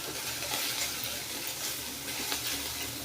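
Kharkol leaf paste with turmeric is stirred in a hot pan, making a soft, continuous sizzle with scraping and stirring noise, faint and unbroken, with no voices.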